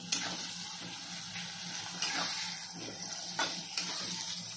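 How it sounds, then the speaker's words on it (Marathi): Onion and tomatoes sauté in a pan with a continuous moderate sizzle, broken by a few brief stirring scrapes and clinks. "टमाट्याचं पण चांगलं मस्तपैकी मऊसर होईपर्यंत त्याच्यात आपण परतून घेणार आहोत."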